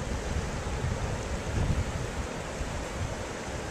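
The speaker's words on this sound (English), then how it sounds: "it's too windy, so I should be actually yelling in order to be heard on this" Strong wind in Bear Canyon pounds against the microphone in a continuous low roaring rumble with uneven surges, close and loud, like rushing surf, with no voices.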